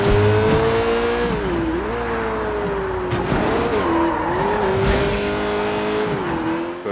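A car engine in the open-world driving of the video game Sleeping Dogs: Definitive Edition holds a steady, loud drone whose pitch rises and dips as the car cruises the map, with tire squeals and skids throughout.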